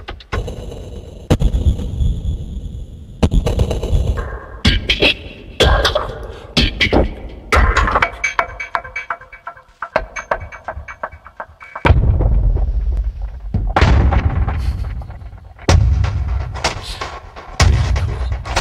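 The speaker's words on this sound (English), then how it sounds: "So the cinematic loops, they sound like this." Hybrid cinematic percussion loops from the Hybrid Head Crusher sample pack: heavy booming hits, metallic crashes and rapid stuttering bursts in driving, irregular rhythms, loud and close, with brief gaps between phrases.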